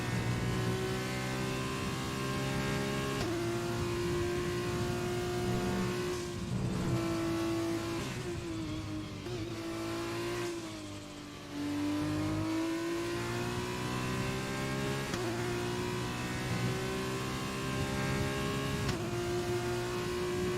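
An F2 race car engine in F1 2020 revs high and steady, its pitch dipping with downshifts before climbing again, heard close and continuous from the car's perspective around a wet British circuit.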